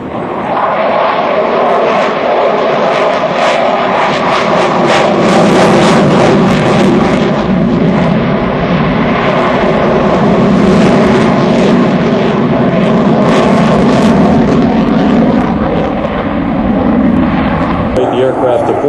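A US Navy F-18 Super Hornet jet roars through an airshow pass, rolling inverted with power reduced to idle, a loud sustained engine wash that rises and falls while an announcer talks over it.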